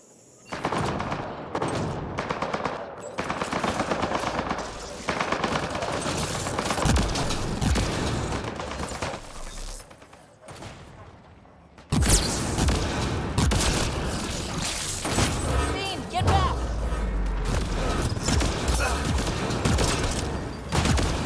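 Turret machine guns firing in a video game on Insanity difficulty, long sustained bursts of rapid gunfire with booms mixed in, broken by a brief lull before the shooting resumes loudly.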